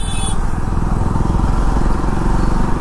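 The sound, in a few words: motorcycle riding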